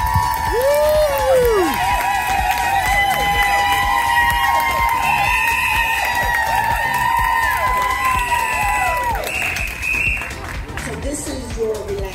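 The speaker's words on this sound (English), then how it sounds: "let's give her a round of applause" An outdoor crowd on Memphis's Beale Street cheers and applauds a double dutch performer, with loud, sustained cheering, shouts and whoops layered over continuous clapping and voices.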